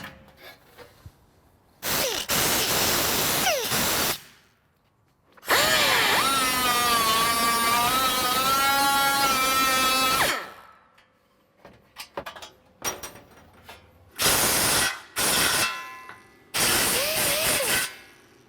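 An angle grinder grinds rust inhibitor off a car panel on a 1955-1957 Chevy wagon, with a long loud whining run and several shorter bursts that spin up and wind down between quiet gaps.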